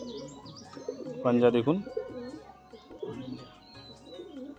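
A high-flying pigeon gives a short cooing call while someone talks nearby; the bird is brief and partly overlapped by the speech.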